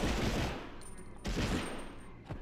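Gunfire in the PS1 video game Medal of Honor: a few bursts of rapid shots, each opening with a sharp crack and fading off, fairly quiet, with no talking.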